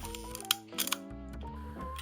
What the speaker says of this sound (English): the shutter is a bit old, it takes too long to close in the low speeds